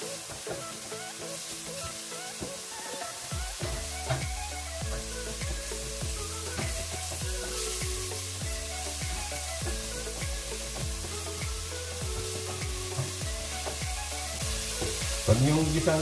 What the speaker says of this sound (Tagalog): giniling na carrots, sibuyas at saka celery. Guys, ito kailangan gisang-gisa.